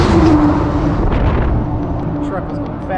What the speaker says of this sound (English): Truck was going fast.